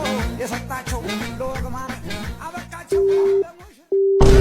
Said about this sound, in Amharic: የማይሰራ ስልክ ነው የሰጠችው